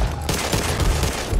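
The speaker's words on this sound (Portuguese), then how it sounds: "Cuidado com os tiros, foi sem querer." Rapid, loud bursts of gunfire rattle almost continuously in the co-op zombie shooter Back 4 Blood, with overlapping shots close up and no break in the barrage.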